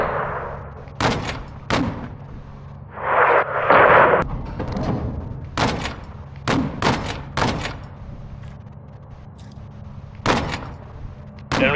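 Small arms gunfire in Call of Duty Modern Warfare II, coming from a gas station: loud, sharp cracks and short bursts of shots spread irregularly across the stretch, with a heavy rumbling blast in between.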